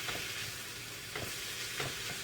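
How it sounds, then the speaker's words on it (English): Chicken stirred in a frying pan during weekly meal prep, a steady sizzle with a few scraping stir strokes rising out of it, close and continuous, with no talking. "I'm going to give my chicken a quick mix up."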